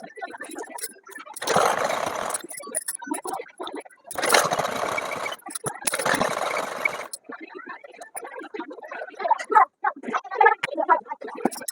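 Sewing machine stitching the side seams of ladies' pants in three separate runs of steady whirring, each a couple of seconds long, with quieter handling sounds and rustling of fabric between them.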